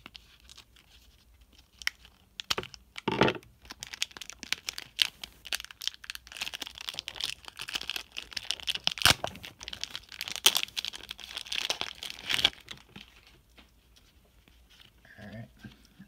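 Plastic wrapping on a mailed care package of sports trading cards crinkles, tears and rustles as it is cut open and unwrapped, close up, with busy scratchy bursts of handling noise over several seconds before it quiets.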